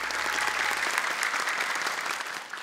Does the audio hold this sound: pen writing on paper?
no